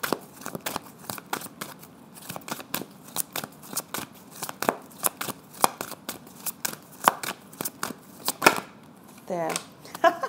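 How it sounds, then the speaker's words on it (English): A tarot deck is shuffled for a card draw with a rapid run of crisp riffling cards and slaps in an irregular rhythm, close and clear, and a brief voice speaks near the end. "let me draw for you an additional guidance card for your week ahead"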